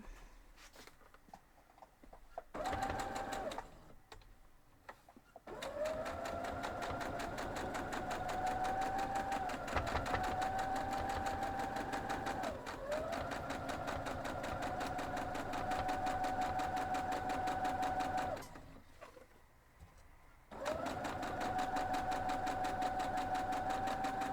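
A sewing machine stitches a quilt block for a kitchen window pattern in steady, loud runs that start and stop, with short pauses between seams and no talking.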